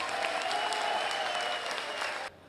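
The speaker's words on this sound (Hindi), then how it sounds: "अरे तालियां बजाइए भाई" A crowd at a railway employees' union election campaign rally breaks into dense, sustained applause that fills the space before cutting off abruptly.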